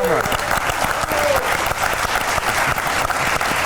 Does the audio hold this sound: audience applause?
yes